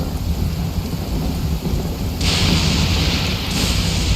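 Thunder in a Genshin Impact storm rolls as a loud, continuous roar over heavy rain, growing brighter and harsher partway through, with no voices over it.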